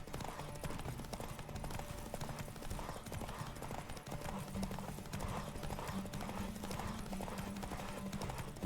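A horse gallops steadily in a race in The Witcher 3, its rhythmic hoofbeats continuous and close over a low game soundtrack drone.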